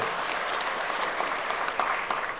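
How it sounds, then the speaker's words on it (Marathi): A crowd applauds steadily at an entrepreneurs' event, dense clapping that holds at an even level for the whole stretch. "आपण टाळ्या जोरदार जोरदार अजून"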